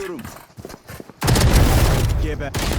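Rapid bursts of gunfire in the video game Valorant erupt loud and sustained after a quieter opening, continuing to the end with players talking over the shots.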